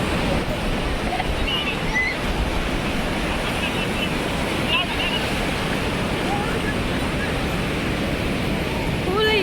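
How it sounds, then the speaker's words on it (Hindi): Ocean surf at Puri beach, a continuous loud wash of breaking waves mixed with wind buffeting the microphone, with faint voices in the background. "देखो मस्त लहर भी"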